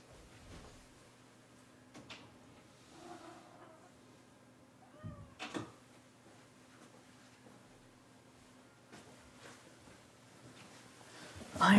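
An upset cat meows a few times, faint and somewhat distant, amid a quiet room with soft knocks and door-like thumps, ending in a louder clatter.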